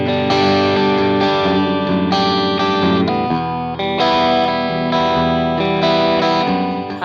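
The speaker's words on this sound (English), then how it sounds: "you can stick to the traditional 100-watt tube amp tone that sounds just like plugging into a single input" Electric guitar played through a UAFX Lion 68 Super amp pedal set for a classic 100-watt tube amp tone, loud distorted chords and ringing notes ring out continuously with a short dip midway, no voice.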